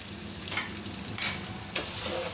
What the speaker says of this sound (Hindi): हमने एक बर्तन में हमने अपना ऑयल गर्म कर लिया है। अब हम इसमें थूम का पेस्ट डालेंगे।